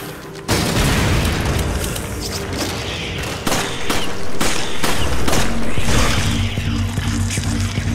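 Heavy gunfire and booming blasts in Resident Evil 5, repeated loud shots and explosions over a dense game soundscape, continuous and close for several seconds without talking.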